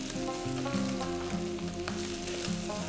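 Mutton sizzling and frying in a pan with Kashmiri chilli for rogan josh, a steady close crackle throughout with faint stirring and no voices.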